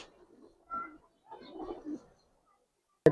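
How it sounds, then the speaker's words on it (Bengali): Giribaz and colouring pigeons coo softly in a loft, two short low bursts in a quiet space, followed by a sharp knock at the end. "এগুলো কবুতর মাশাআল্লাহ"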